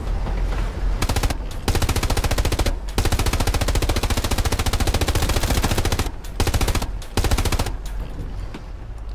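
Machine-gun fire rattles at a vehicle in the World War II shooter game Hell Let Loose, long loud rapid bursts separated by short pauses, close and dominant throughout.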